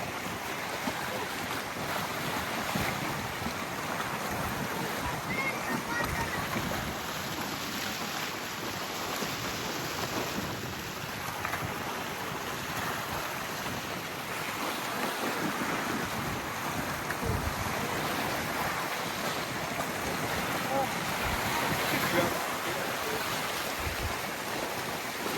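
Beach at Villasimius, Sardinia: steady roar of surf and waves blended with continuous wind buffeting the microphone, loud and unbroken throughout, with no voices.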